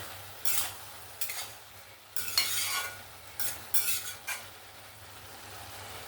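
Bottle gourd curry with chili and coriander powder is stirred in a pan, a soft sizzle underneath broken by about six short scraping strokes of the spoon, close and moderately loud, with no talking.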